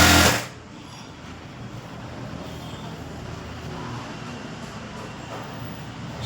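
A sewing machine runs steadily and loud, stitching the neck lining of a blouse with canvas, a continuous whirring drone after a brief louder start.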